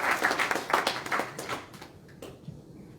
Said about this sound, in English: Clap for Akufo-Addo and Kenyatta.